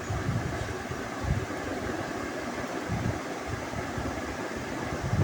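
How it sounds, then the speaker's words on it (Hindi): A blender whirs steadily while blending a chikoo chocolate milkshake, a loud continuous motor drone with a churning texture that runs the whole time, with no talking. "तो चलिए अब हम इसको अच्छी तरह से ब्लेंड कर लेते हैं।"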